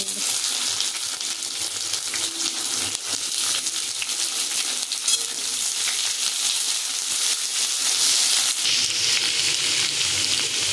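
Onions go into hot oil with chopped ginger and garlic, cumin, cinnamon and cardamom for a Bengali chicken dopiaza, giving a steady, loud, close sizzle with crackling bursts throughout, and no talking.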